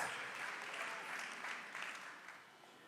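Congregation clapping steadily during a church prayer service, a dense wash of many hands applauding together that fades slightly toward the end, with no one talking over it.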